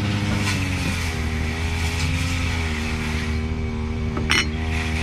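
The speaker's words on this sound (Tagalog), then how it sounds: "Namatay na yung makina." Small engine powering farm irrigation runs with a steady droning hum, close and continuous, a brief sharper noise near the end before it stops.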